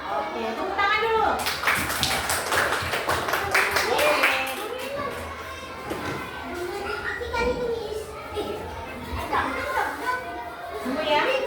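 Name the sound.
children clapping hands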